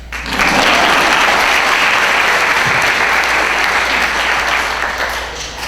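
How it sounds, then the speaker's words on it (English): Loud, full applause from the audience at an 8th grade recognition ceremony, swelling after a brief quiet start, holding strong, and easing off slightly near the end. "Can you clap?"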